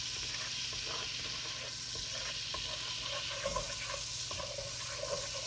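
Lamb chops with garlic sear in a hot pan, a steady broadband sizzle with faint crackles running evenly throughout, close and continuous with no talking.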